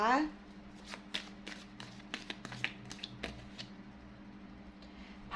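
Someone shuffles and draws tarot cards close by, producing a series of crisp papery flicks and soft taps at an uneven pace, following a short moment of someone speaking at the beginning.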